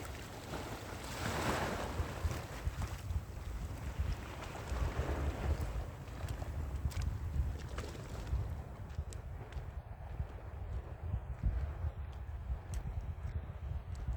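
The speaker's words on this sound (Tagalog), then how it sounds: "May malaki yung alon." Sea waves wash and surge nearby at Five Fingers Beach in Mariveles, Bataan, a low rolling rush with wind noise over the microphone, gradually easing toward the end.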